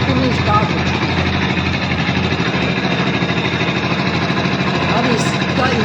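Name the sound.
BS6 fuel-injected motorcycle engine idling after self-start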